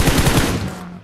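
A short, loud burst of rapid automatic gunfire from a PUBG match, close and continuous before trailing off.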